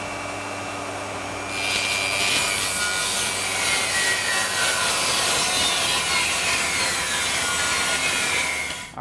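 Saw ripping a sheet of plywood lengthwise into two pieces for closet cleats, a steady loud cutting whine that starts after about a second and runs continuously to the end, with no talking.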